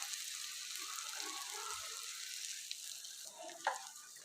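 Sandwiches made from lentils and gram flour shallow frying on a tawa, a soft even sizzle hissing steadily throughout with a faint clink near the end, no voices.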